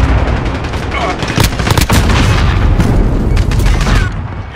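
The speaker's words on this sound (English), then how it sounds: "Cruise missile go for launch." Heavy booming blasts of cruise missile explosions in a Call of Duty Modern Warfare Domination match, loud and close, with repeated impacts and scattered gunfire rolling on throughout, over a steady battle din.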